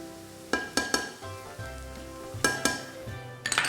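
Ginger garlic paste sizzles with browned onions in a pan, a steady frying hiss broken by several sharp clinks and scrapes of stirring at irregular intervals, close and clear with no talk.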